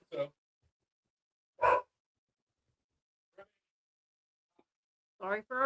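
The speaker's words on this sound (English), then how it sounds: "Sorry for our dogs yelling." Indoor household dogs yelp and bark in a few short, separate bursts with long quiet gaps, fairly faint, and a person speaks near the end.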